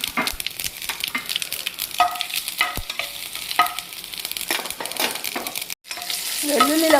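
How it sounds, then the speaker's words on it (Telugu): A tempering of mustard seeds, cumin, dried red chillies and crushed garlic sizzles and crackles steadily in hot oil, with occasional scrapes of a stirring spoon against the pan. "ముందుగా తాలింపు వేసుకుని ఆ తాలింపులో ఈ కొండపిండాకు వేసి వండుతాను అనమాట."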